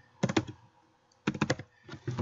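Quiet computer keyboard typing while searching in DJ software, two short bursts of rapid keystrokes separated by a pause, then a few more clicks, close and clear in a quiet room.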